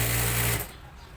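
Sewing machine stitching a folded fabric strip for a neckline trim, a steady close motor whir with stitching hum that stops abruptly partway through.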